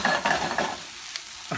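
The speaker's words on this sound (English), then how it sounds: "I'm sauteing my spinach." Spinach sautéing in a pan, with close sizzling and a few stirring scrapes that fade toward a quieter hiss before a final stir.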